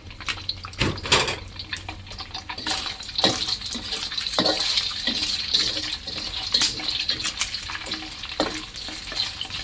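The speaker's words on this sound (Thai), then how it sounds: "แต่เวลาทอดจะไม่ติดกระทะนะคะ" Sizzling sun-dried marinated pork frying in a hot pan, a steady crackle with sharp spattering pops throughout and no voices.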